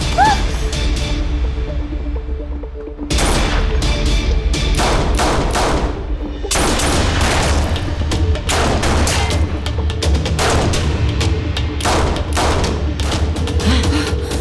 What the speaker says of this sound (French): Les coups de feu ne s'arrêtent pas.